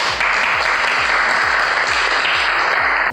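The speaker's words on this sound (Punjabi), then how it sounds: "ਇਹ ਸਾਰਿਆਂ ਵਾਸਤੇ ਇੱਕ ਵਾਰੀ ਯਾਰ ਆਪੇ ਤਾੜੀ ਲਾ ਦਿਓ।" An audience at an Eid comedy road show claps in a dense, steady burst of applause, close and loud, lasting a few seconds with no talk over it.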